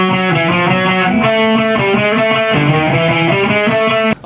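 Distorted electric guitar plays a lick, with the ring finger laid flat across the strings: a run of quick repeated notes and held tones, loud and close, no voice, ending in a brief cutoff.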